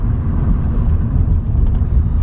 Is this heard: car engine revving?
yes